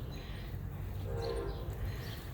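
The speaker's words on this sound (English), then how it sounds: "Here comes the train." Train passing in the distance beyond a garden, a low rumbling roll with a faint horn-like tone rising in the middle, steady and fairly quiet.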